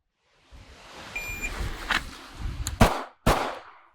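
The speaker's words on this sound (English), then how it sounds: "So it's 1 step, 2 shots." Two sharp handgun shots at a shooting range, fired in quick succession near the end after a short stretch of faint movement and handling noise, each a loud, close crack.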